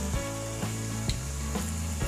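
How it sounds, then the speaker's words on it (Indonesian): Snack rolls for school-kids' street food frying in hot oil over a low flame, a steady close sizzle with faint clinks and stirring taps, no talk. "Ini kita goreng secukupnya aja menggunakan api kecil ya."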